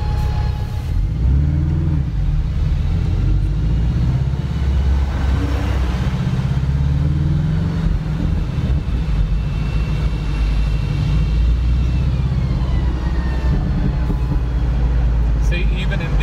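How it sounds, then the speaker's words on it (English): A Porsche Boxster 718S drives on narrow city streets in London, its engine and exhaust a steady, loud drone throughout, while a voice talks over the running car. "when I change gears, it does those pops and bangs"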